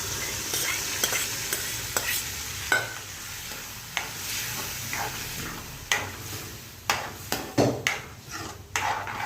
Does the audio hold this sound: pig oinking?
no